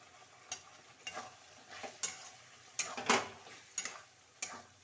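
Potatoes stir-fried in a pan for a sesame-poppy seed potato and pointed gourd curry: a quiet background sizzle with about eight spaced scraping strokes of a spatula, one louder clatter near the middle.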